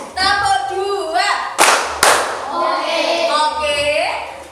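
A classroom group claps together in the Indonesian 'tepuk 2' call-and-response pattern: two sharp, loud claps in quick succession, set between voices chanting and speaking.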